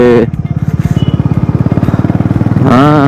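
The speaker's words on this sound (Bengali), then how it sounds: "আর গটগট গটগট করে 4টে বাইক চলছে" A Honda Highness motorcycle thumps along a mountain road on the Silk Route, a loud, close, steady low single-cylinder putter with evenly spaced pulses, one of four bikes riding together, a voice briefly heard at the start and end.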